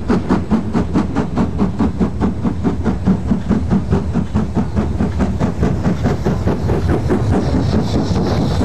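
LMS Black 5 steam locomotive 5407 works hard along the Settle and Carlisle line, a rapid steady chuffing exhaust beat with rail rumble underneath, loud and close throughout.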